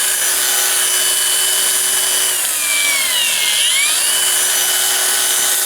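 Procraft PWA220 cordless angle grinder spinning with no load, a steady high whine that dips briefly in pitch midway before recovering, close and continuous with no talking.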